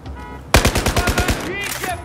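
Rapid burst of automatic gunfire in Battlefield 4, about eight sharp, evenly spaced shots following a quieter lead-in, loud and close, with game ambience trailing after.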